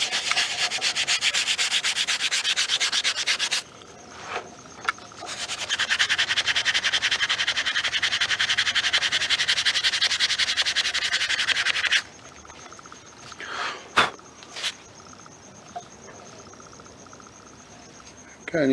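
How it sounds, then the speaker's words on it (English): Abrasive sanding against a turned wooden hibiscus vase spinning on a lathe: a steady, close rasping hiss that breaks off briefly, resumes, then gives way to quieter scattered scrapes and taps near the end. "this is me sanding"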